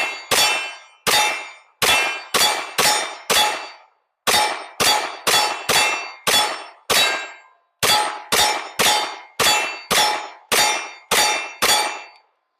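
Ruger LC Carbine 10mm rifle firing at outdoor targets over iron sights, with steady strings of sharp shots each followed by a ringing metallic clang from the hit targets, about sixteen in total, arriving in three rapid groups.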